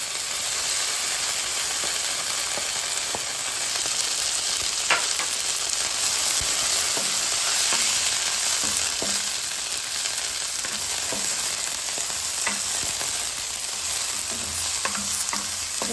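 Cubed sweet potato sizzling steadily in a pan of hot oil over low heat while being stirred, a continuous close frying hiss with occasional scraping taps from the stirring.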